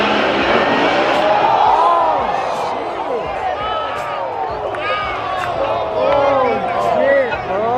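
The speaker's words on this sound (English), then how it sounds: "Dude, that's Mustang versus Mustang." Two Ford Mustangs at a drift event scream past with rising and falling engine revs, loud and close, while a crowd murmurs and people talk excitedly over the noise.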